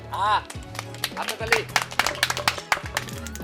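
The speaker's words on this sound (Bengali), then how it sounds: "আমরা দর্শকরা সবাই মিলে একটি করতালি দেই" Audience clapping at a prize handover during a Bangladeshi eating contest, where a winner ate four kilos of duck and five kilos of rice; scattered, uneven claps ring out in a short burst under an ongoing voice, with some music-like tones at the start.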